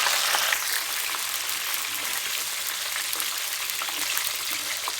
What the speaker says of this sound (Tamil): மீதி இருக்கிற பயிரையும் நம்ம வறுத்து வச்சுக்கலாம்